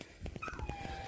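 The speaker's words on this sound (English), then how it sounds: "Sorry about the dog," A dog whimpers and yips near an HO scale model railroad layout, thin high whines rising and sliding down over a second of low steady room noise.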